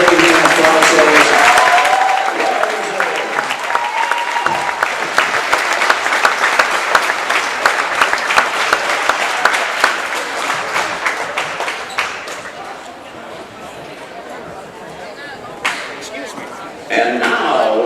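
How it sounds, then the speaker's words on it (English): Crowd in a gym applauding wrestlers after regional results, loud sustained clapping that gradually thins and tapers off, leaving sparse claps and a few faint sounds near the end. "Let's give them all another big hand of applause, ladies."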